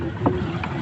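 A speedboat runs on open water, its engine a steady low drone mixed with wind buffeting and water rush, with a faint voice briefly in the background.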